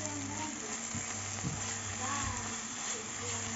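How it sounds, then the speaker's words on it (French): Eggs browning in oil spiced with chili, salt and turmeric for egg biryani, a steady close sizzle with occasional soft scrapes beneath a low hum. "on va faire dorer nos œufs dedans"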